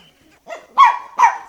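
A dog barking in the video game Pikmin 4, a short whine followed by two loud, clear barks spaced about half a second apart, heard alone.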